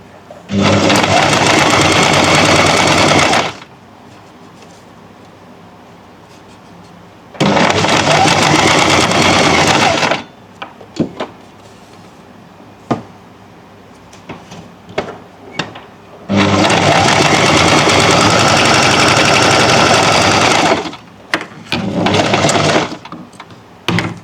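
A sewing machine stitches a neckline on fabric in loud, close, steady whirring runs of several seconds each. Quiet gaps with small clicks and handling noises fall between the runs as the cloth is turned at a corner.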